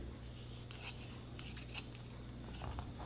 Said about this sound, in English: I'm just going to eyeball it and cut it